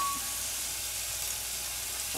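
Onion sizzling in a pan of sesame and olive oil, a steady close frying hiss that carries evenly from start to finish without any voices.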